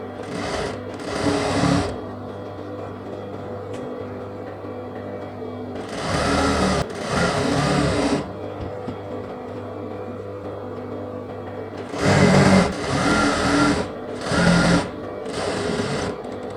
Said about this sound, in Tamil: இப்போ எவ்வளோ அகலம் விட்டுருக்குமோ அந்த அளவுக்கு நம்ம அப்படியே மடித்து தைச்சிட்றேன்.